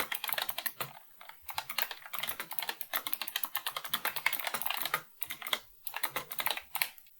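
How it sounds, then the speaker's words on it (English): Rapid typing on a computer keyboard during a webcam microphone test: dense, clicky keystrokes in quick bursts with short pauses, close and clear, no talk. "Keyboard test."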